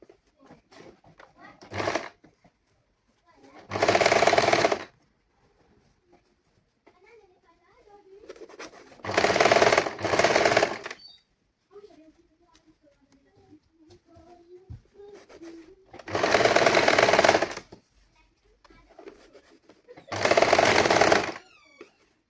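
A sewing machine stitches a saree blouse in four loud close bursts of rapid, steady whirring, separated by quiet gaps with faint handling sounds and brief talk.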